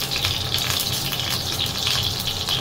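Pork hock (pata) fries and stir-fries in hot oil, a loud continuous sizzle with sharp pops and crackles close up.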